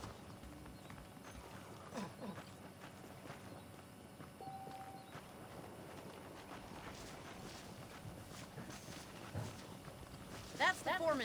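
Horse hooves clip-clop at a steady trot across a Red Dead Redemption soundscape, moderately close, with light wind and faint ambient tones throughout.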